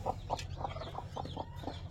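Newly hatched short-nose, long-tail chicks make soft, faint, repeated peeping chirps at a steady rhythm over low background noise.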